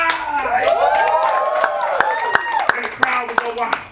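An audience at a poetry performance claps in scattered, sharp bursts while loud voices whoop and cheer over them.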